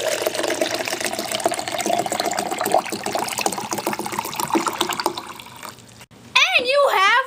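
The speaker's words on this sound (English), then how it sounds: "So now pour water into the dehydrated water." Water pours into a cup with a steady, splashy hiss lasting several seconds, then stops. A voice follows briefly at the end.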